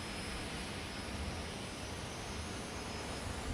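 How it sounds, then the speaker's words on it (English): High-pitched whine of a jet engine spooling at a Funny Car drag race at Texas Motorplex, a steady broadband roar with a thin sustained tone on top, constant and fairly distant throughout. "You get that sound? The jet engine spinning over."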